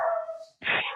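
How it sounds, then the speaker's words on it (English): Two dogs at a back door give a short bark and yip, a sharp brief burst heard close by after a moment of quiet, with nothing else alongside. "Both dogs are barking at the back door."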